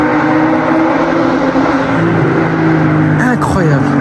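A Stage 3 Nissan GT-R R35 tuned past 800 horsepower roars loudly and steadily, then briefly revs and shifts pitch near the end, close and dominating.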